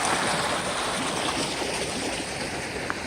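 Steady broadband rush of river water flowing through a culvert in the Alabama Hills, constant and fairly close, with no voices.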